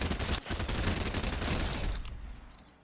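Rapid automatic gunfire from a gold SMG in an aim trainer video game, a dense continuous burst of shots for about two seconds that then cuts off, leaving a fading tail.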